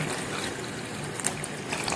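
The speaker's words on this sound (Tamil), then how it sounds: "மட்டன் வேக வைக்கிறதுக்காக தண்ணி ஊற்றுறோம்." Water poured into a pot of mutton for nihari, a steady close splashing trickle that runs continuously for a couple of seconds.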